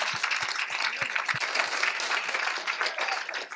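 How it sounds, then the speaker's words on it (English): An audience at a Pint of Science evening in Armidale gives a big round of applause, a dense, steady wash of many hands clapping throughout, with a few low thumps near the start. "please give them a really big round of applause for their work tonight"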